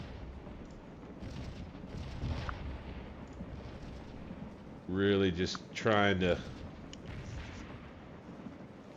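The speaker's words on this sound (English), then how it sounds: "keep the cannons firing hot" Cannon artillery fire in the Civil War strategy game Scourge of War, during the Battle of Stones River: muffled, distant rumbling booms under a steady noisy backdrop, with someone talking briefly partway through.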